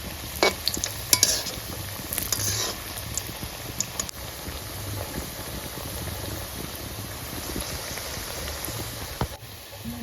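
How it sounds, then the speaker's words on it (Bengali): Coconut fritters (bora) frying in hot oil, a steady crackling sizzle throughout with a few louder spatters and scrapes near the start, close and fairly loud, no voices. "বড়াটা কিছুক্ষণ সময় ভাজতে নিলাম"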